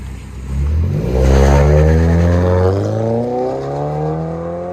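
A 2014 Ford Fusion with a 2.5L four-cylinder engine and muffler and resonator delete exhaust revs up close and loud, the raspy tone climbing then easing back to a fast idle.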